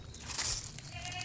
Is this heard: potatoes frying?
no